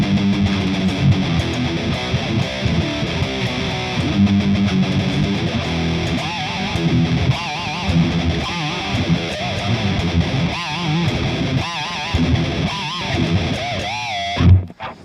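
A 1994 Jackson Stealth EX metal guitar plays through heavy distortion, chugging riffs and sustained lead bends, loud and continuous up close before cutting off abruptly at the end.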